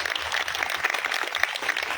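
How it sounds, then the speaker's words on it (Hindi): Audience applause at an outdoor kitchen gardening training seminar, a steady dense wash of many hands clapping at once, loud and continuous throughout. "इनके लिए एक जोरदार किस्म की तालियां।"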